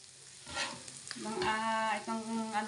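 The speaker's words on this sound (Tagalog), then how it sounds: "So yan, ginisa ko na po." Onion and garlic sautéing in a pan at home, with a steady sizzle and frying crackle as the food is stirred, and tonal scraping or squeaking layered over it, fairly close.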